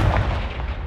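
A blast from the Confringo fire spell in Hogwarts Legacy, a short booming burst with rumbling low end that decays quickly, heard alone without talk.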